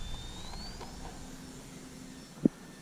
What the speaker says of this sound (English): We're going to take off on this side of the runway.